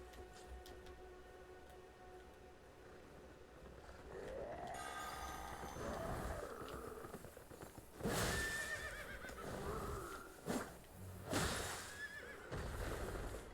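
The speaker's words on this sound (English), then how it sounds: "There's a horse." A horse in Elden Ring whinnies loudly several times amid hoof clops and rough rustling, the neighs rising and falling in pitch, close and intermittent over low background noise.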